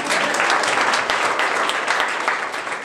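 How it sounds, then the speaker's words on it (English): A conference audience at a DSW 2023 sales talk breaks into full, dense applause, many hands clapping loudly and evenly before tapering slightly at the end. "How about a round of applause"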